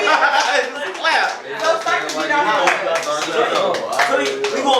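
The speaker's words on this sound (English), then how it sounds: "The beat is just clap." Hand claps serve as the beat at a freestyle rap writing session, struck in a rough rhythm while several people talk and chuckle over them.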